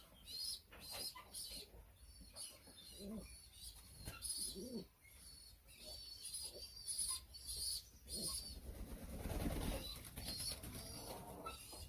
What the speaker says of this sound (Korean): 이것은 비둘기 어미와 비둘기 새끼입니다.